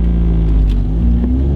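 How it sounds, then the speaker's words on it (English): A manual car's engine hums steadily in first gear during a hill start, a close low drone with a slight rise as gas and clutch are balanced, heard without talk. "you gotta give your car a little more gas and clutch"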